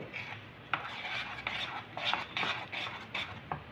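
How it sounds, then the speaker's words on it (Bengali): Spoon stirs thick ripe-mango fritter batter with baking soda in a bowl, giving repeated soft scraping and clinking strokes at a steady rhythm, close and fairly quiet with no talk. "ভালো করে এগুলো মিশিয়ে নেব।"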